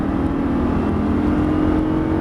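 A Lamborghini Gallardo engine roars steadily at close range on a track, holding a strong droning note as it accelerates, with continuous road and wind rumble and no talking.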